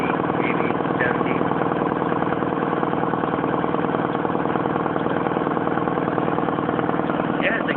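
A rebuilt air compressor runs steadily and loudly close by, its motor and pump making a constant mechanical drone. Its note stays level throughout.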